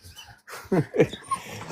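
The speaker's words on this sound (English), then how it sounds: "Sorry, my dog's going full crazy right now." A dog whimpers, then gives a couple of short yipping barks, close and fairly quiet, within a brief indoor moment.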